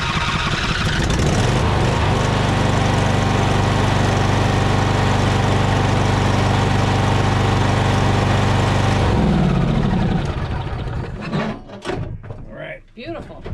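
A Craftsman PYT9000 lawn tractor engine catches right away and runs loud and steady for about nine seconds. The roar then drops off, leaving quieter knocks and movement nearby.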